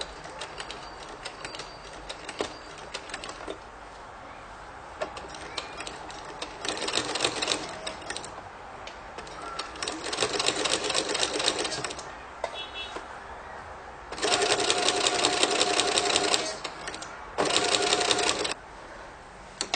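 A sewing machine stitches a seam on a baby blanket in several bursts of rapid mechanical clatter with pauses between them. The burst near the end is the longest and loudest. Faint handling noises fill the gaps.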